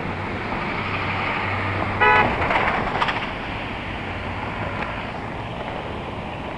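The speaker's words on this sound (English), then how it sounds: "You're honking at me?" A car horn sounds at a cyclist on a city street, one short toot cutting in over steady road and wind noise, with passing traffic around.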